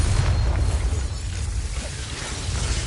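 A Bombarda spell explodes during a duel in Hogwarts Legacy: a loud, close, rumbling blast with heavy low-end roar that holds for a few seconds before easing slightly.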